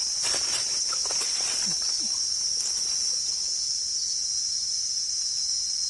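Continuous high, steady insect buzzing in a forest, a shrill drone filling the background with a few faint scattered ticks and rustles beneath it.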